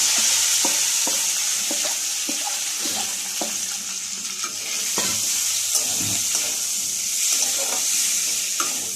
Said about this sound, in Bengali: আমি এতে ওই কাটা ছাড়ানো মাছগুলোকে আর তার সঙ্গে আলুটা ছেড়ে দিলাম।